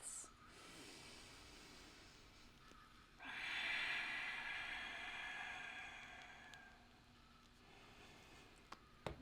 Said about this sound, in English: Ujjayi breaths.